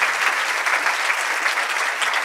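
Steady, dense applause from an audience at an entrepreneurship awards ceremony for a joinery business owner, loud and continuous throughout with no pauses.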